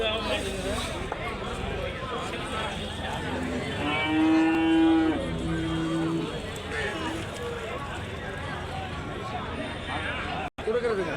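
Cattle moo loudly at a busy cow market in Karimangalam, Dharmapuri district, Tamil Nadu, with HF and Jersey cows among the stock; one long low call stands out over steady crowd hubbub and nearby talk.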